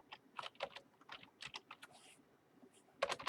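Quick bursts of typing on a computer keyboard while entering a search term in a 3D software workspace, close and crisp with short pauses between clusters of keystrokes.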